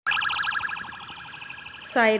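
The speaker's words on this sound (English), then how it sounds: "Now you have heard siren of ambulance." A wailing ambulance siren sweeps up and down in rapid cycles, loud and steady, ending in a sudden sharp ringing tone.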